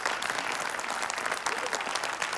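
A studio audience at a televised music show applauds, brisk, steady clapping from a crowd continuing evenly throughout the short stretch.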